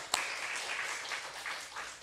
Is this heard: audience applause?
yes